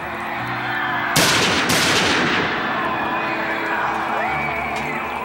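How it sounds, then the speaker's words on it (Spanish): Several sharp gunshots crack in quick succession at close range, amid a murmuring crowd. "Ali Ahka hizo 3 disparos a corta distancia"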